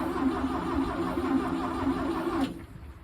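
A small engine with the choke partly on and the transmission in neutral runs as a steady, loud mid-pitched drone that cuts out abruptly near the end, leaving faint low rumble.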